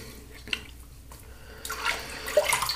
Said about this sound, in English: All right, rinse off a little bit.